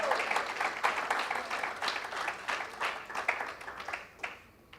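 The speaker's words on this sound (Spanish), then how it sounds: "Puedes darle un aplauso a Dios por su palabra." A church congregation bursts into sustained applause in praise of God, a dense, steady wash of many hands clapping that fills the room and slowly thins out toward the end.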